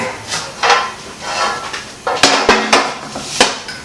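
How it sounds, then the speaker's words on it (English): A metal roasting pan for a Thanksgiving turkey is shifted across a kitchen counter, giving a run of close, sharp clanks and knocks spread over a few seconds amid light handling noise. "bring the roasting pan over"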